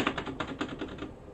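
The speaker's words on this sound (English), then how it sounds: "It's just me clicking to drop the bombs." Quick clicks of a computer mouse drop bombs in the War Thunder video game, about eight close, sharp taps in fast succession with no talk.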